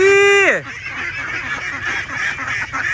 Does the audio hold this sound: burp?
no